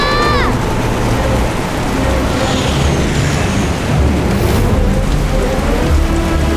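Heavy rain pours steadily in an Indonesian children's dinosaur cartoon storm, a dense, loud hiss of rain with low thunder rumbling beneath and a brief high whoosh early on.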